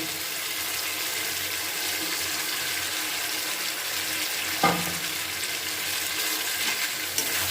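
A bean leaf paturi mixture is stirred in a pan over a steady, soft hiss of gentle cooking, with one sharp clink of a spoon against the pan partway through and another faint tap near the end.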